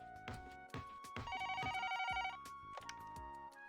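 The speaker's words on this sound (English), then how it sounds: "Grating phone ring rouses me." Grating telephone ring from the ToHeart2 visual novel, a repeated electronic trill loud and close, sounding in a steady burst over game music and chimes before cutting off.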